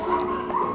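A frightened puppy rescued from an empty, abandoned vinyl greenhouse gives a short, thin whimper, a high tremulous whine heard close and alone.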